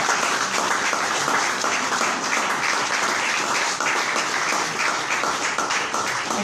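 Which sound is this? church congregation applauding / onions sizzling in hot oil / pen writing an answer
church congregation applauding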